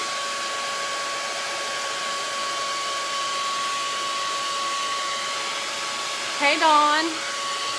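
A hair dryer blows on wet paint on a handmade DIY farm sign, a steady close whine held throughout, with a brief spoken greeting near the end.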